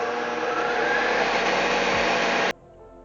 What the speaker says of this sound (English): Now I'm going to put my egg whites into a mixer. And I'm going to mix those together until they start to get foamy.